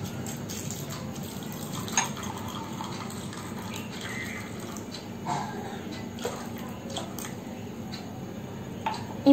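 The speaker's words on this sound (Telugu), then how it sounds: "దీంట్లో ఇప్పుడు కొన్ని నీళ్లు పోసుకోవాలి." Water poured into a bowl of dry protein seeds (field beans, soybeans and rajma) to soak them, a soft steady trickle and splash in a kitchen with faint clinks and ticking, no talk.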